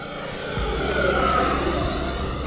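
An E-Flite Viper 90mm electric ducted-fan RC jet makes a flying pass with landing gear going up, its steady high whine and rushing roar building slightly and holding loud throughout.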